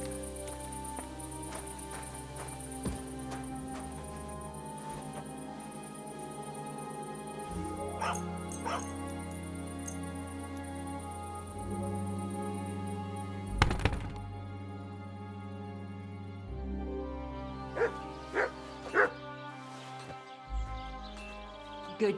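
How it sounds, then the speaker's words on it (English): A dog in the medieval role-playing game Kingdom Come: Deliverance 2 yips, barks and whimpers in short bursts over quiet game music and ambient tones, with a few dull thunks. "Good doggy, good boy."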